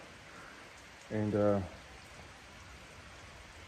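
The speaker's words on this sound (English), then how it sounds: "It's raining right now." Rain falling steadily outdoors, a soft constant patter heard throughout, with a brief spoken word cutting in over it near the middle.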